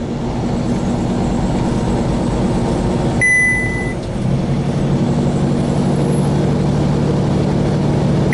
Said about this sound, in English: This XTL truck is running really slow.